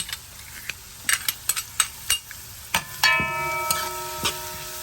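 Garlic sautéing in a pan for Cuban shrimp creole, with a soft sizzle under a series of sharp utensil taps and scrapes, followed by a ringing metallic clang near the end, heard up close with no talk.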